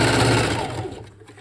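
A sewing machine stitches through a fabric book cover with a fast, loud mechanical whir that winds down and slows toward the end.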